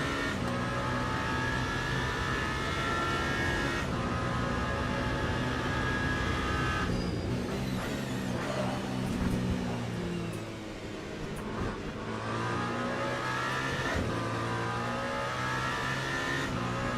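A Porsche race car in the Le Mans Ultimate racing game accelerates hard, its engine note climbing through gears with shift breaks, other cars roaring nearby and a brief tire squeal, loud and continuous.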